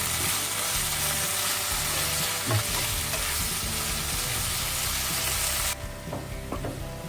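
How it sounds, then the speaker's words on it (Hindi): Masala seasoned with salt and chilli sizzles steadily in oil, with occasional stirring scrapes and clinks, the broad frying hiss thinning near the end. "तेल छूटने लगा है। अब इसमें नमक डाल देंगे। मिर्च डाल देंगे। इसको मिक्स कर लेंगे।"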